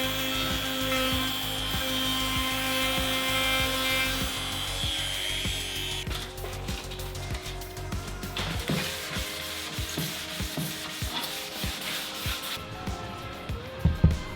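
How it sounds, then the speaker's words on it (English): A belt sander works over wooden coffee table parts, first as a loud, steady mechanical whine with a rhythmic thump, then as rough, irregular scraping and rubbing of wood that ends with a few knocks. "I ran all the parts over a belt sander up to 240 grit"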